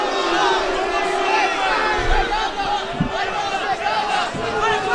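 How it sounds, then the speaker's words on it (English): A restless MMA arena crowd shouts and murmurs during a Jon Jones fight, a constant roar of many voices with a few louder individual yells and low thumps breaking through. "Okay, the crowd getting a little restless here."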